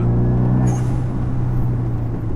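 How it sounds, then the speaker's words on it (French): Renault Megane 2 RS R26R turbocharged engine droning steadily from inside the car, with a brief, sharp dump valve whoosh released early on over the continuous engine rumble. "Ah, mais le son avec la dump valve,"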